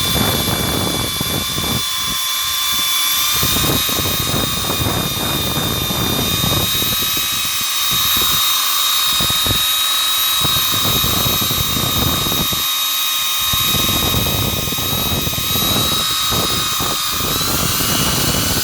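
Drill spinning a nylon abrasive wheel against rust spots on a Ford Falcon XG EX divisional van part, a loud continuous high-pitched whine with rasping grinding that briefly eases in short gaps.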